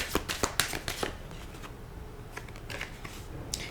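Tarot cards are shuffled close by in quick riffling bursts, a cluster of sharp flutters at the start, a quieter gap, then a few more shuffles toward the end.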